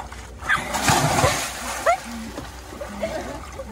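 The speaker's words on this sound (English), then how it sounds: "I'm going to splash her though" Sea water splashed by hand near the shore, several irregular splashes and sloshes, close and moderately loud, among voices and playful shouts.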